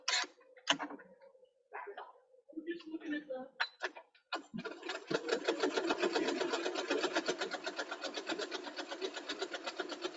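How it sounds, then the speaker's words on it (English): A sewing machine stitches fabric in a fast, steady mechanical rattle that starts after a few seconds of short speech and handling noises, then runs continuously close by. "let me sew this"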